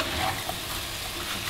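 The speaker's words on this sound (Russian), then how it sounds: "Хорошенечко перемешиваем." Sweet-and-sour sauce is stirred into eggplant frying in a pan: a brief, steady hiss of sizzling with soft scraping from the stirring.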